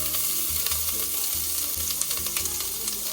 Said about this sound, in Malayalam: നമ്മൾ കടുക് ഇടുകയാണ്.